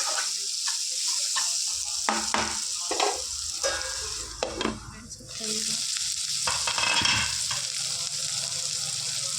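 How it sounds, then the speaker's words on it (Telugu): Bitter gourd egg curry frying and simmering in a pan, a steady loud sizzle broken by repeated scraping stirs. "ఇట్లా మధ్యలో మధ్యలో ఫ్రై చేసుకుంటూ ఫిఫ్టీన్ మినిట్స్ ఉడికించుకోవాలి"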